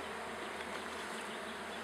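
Honey bees buzzing at an open beehive during a hive check, a steady, dense, faint hum with no voices.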